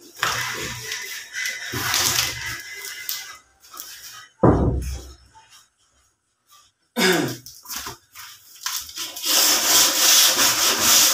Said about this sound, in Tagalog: Siyempre, lihain natin para hindi matala.